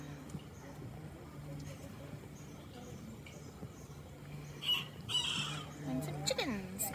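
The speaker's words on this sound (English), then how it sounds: "And some chickens." Chickens at Paignton Zoo clucking and calling faintly in the distance, with a brief louder call near the end, under low background noise and some human talk.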